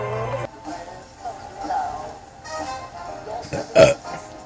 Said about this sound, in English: They found a bunch of his burps